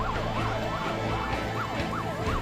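An ambulance siren wails loudly and repeatedly, its tone sweeping up and down in a regular cycle over a low traffic rumble, with no one speaking.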